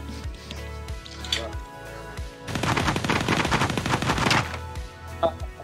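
Rapid gunfire from a weapon in VRChat crackles in a dense automatic burst lasting about two seconds, loud and close, framed by a few isolated single shots before and after.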